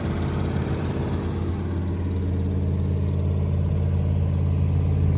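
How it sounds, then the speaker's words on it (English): A big block engine in an abandoned RV idles slightly high, a steady, loud low rumble that holds an even drone throughout with no voices. "I think she's idling a little high"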